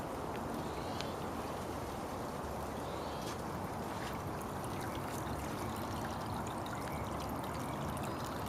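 Runoff water diverted from a neighbour's trench pours steadily into a flooding yard, a constant broadband rush and trickle that stays even and close throughout, with no voices.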